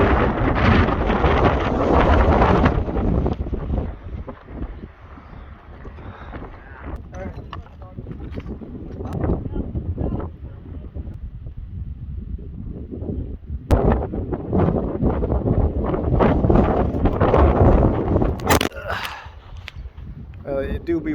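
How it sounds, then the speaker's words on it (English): Heavy wind in a desert by a mountain buffets the microphone in loud, rumbling gusts, easing briefly and then surging again, with little else audible. "it do be windy out here."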